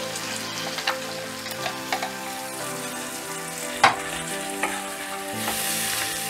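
Ground onion paste stirred into frying masala for a special egg curry, a continuous moderate sizzle with occasional utensil taps and one sharp knock, no voices.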